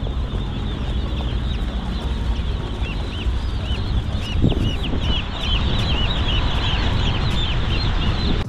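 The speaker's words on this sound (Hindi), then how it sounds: "ये देखो छोटे छोटे ना मुर्गी के चूजे हैं इसमें" Continuous high-pitched peeping from a group of young chicken chicks, busy and overlapping, over a steady low hum with a brief thump midway.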